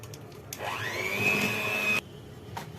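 An electric hand mixer beats egg, vanilla, sugar and butter for shortbread dough. It whirs up in pitch and holds a loud, steady motor whine for about a second and a half, then cuts off abruptly.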